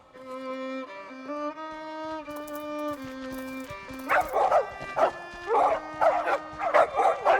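Electronic, game-style music from the video game The Secret of Monkey Island gives way to a pack of small poodles yapping and barking in quick overlapping bursts, fairly loud and close.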